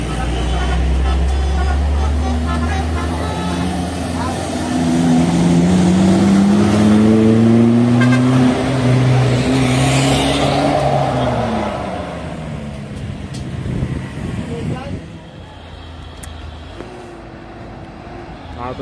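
A heavy container trailer truck carrying tens of tons maneuvers and backs down a winding hill road, its deep diesel engine droning and rising in pitch, then easing off, with people talking and shouting nearby.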